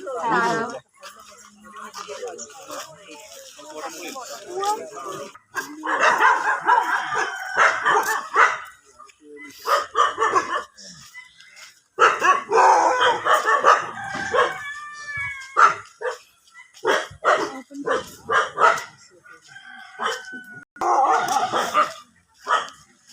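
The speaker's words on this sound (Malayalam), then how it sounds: "പോൾട്രി ഷെഡ്, കുറച്ച്" Chickens in a poultry shed clucking and crowing in bursts, with a dog barking among them and people talking throughout.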